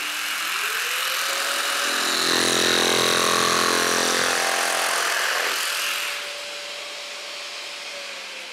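A Festool Carvex PS 420 jigsaw fitted with a wavy-tooth blade runs at low speed setting 2, a loud steady motor whine with a rougher cutting stretch in the middle before it settles back to a smoother hum.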